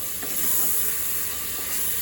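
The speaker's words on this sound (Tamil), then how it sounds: "நம்ம கட் பண்ணி வச்சுருக்க தக்காளியை சேர்த்து நல்லா வதக்கணும்." Four large chopped tomatoes sautéing in a pan for prawn biryani while being stirred, a loud continuous close sizzle and hiss with faint scraping.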